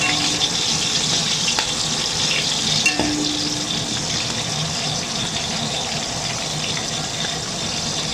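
Potatoes and eggplant fry in a pan with a steady, loud sizzle throughout, joined by occasional scraping stir clinks close by and no talking.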